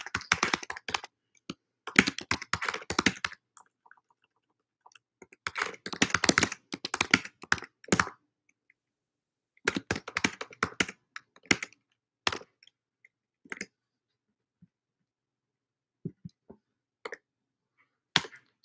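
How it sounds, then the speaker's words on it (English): Bursts of rapid, clacky typing on a computer keyboard come in separate spurts with silent gaps between them, close and distinct, ending in a few scattered single key taps. "I typed it out in the chat."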